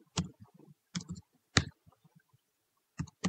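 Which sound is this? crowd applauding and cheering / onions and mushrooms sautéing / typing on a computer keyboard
typing on a computer keyboard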